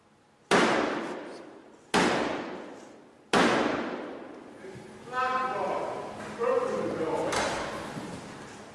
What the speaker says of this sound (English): And then Black Rod has to knock on the door 3 times with the Black Rod.